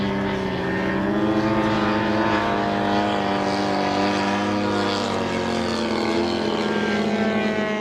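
Large, roughly 20 kg model aircraft flying at an airshow, its engine giving a continuous loud droning buzz that shifts slowly in pitch as it passes, with faint crowd and commentary sounds underneath.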